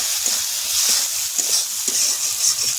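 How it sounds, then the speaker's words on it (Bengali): Tomato and salt sauté in a pan with a constant bright sizzle, while a spoon stirs and scrapes in a regular rhythm, close by and fairly loud. "টমেটো দেব, নুন দেব, আর একটু ভালো করে কষিয়ে নেব।"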